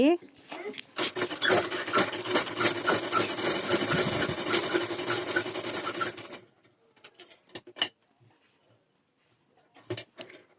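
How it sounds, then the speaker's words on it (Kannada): A sewing machine double-stitches a blouse, running in one steady, loud burst for about five seconds before stopping, followed by a few faint clicks and handling noises. "ಡಬಲ್ ಸ್ಟಿಚಿಂಗನ್ನು ಮಾಡ್ಕೊಳ್ತಾ ಇದ್ದೀನಿ ನಾನು"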